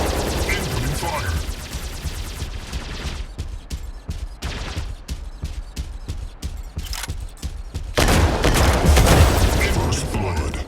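Bursts of rapid mech gunfire hammer away in a 2v2 Mech Arena match, with dense volleys giving way to spaced shots before a loud heavy barrage closes the stretch; game voice lines play over the shooting.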